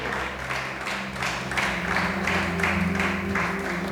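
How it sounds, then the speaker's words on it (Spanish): Church congregation applauding during a Spanish-language sermon, a steady crowd clapping that swells in waves over low room hum and organ-like tones, sustained and fairly loud. "glorifica a Jesucristo con un aplauso"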